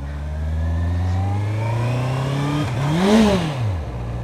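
A Honda CBR 650 R motorcycle with the E-Clutch system accelerates without the clutch, its engine climbing steadily in pitch, then dropping briefly at a gear change before revving up and easing off, close and loud.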